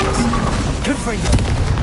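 A Confringo fire-blast spell cast in the Hogwarts Legacy video game: dense, loud booming bursts and crackling impacts packed into under two seconds, with layered game effects and a faint voice running underneath.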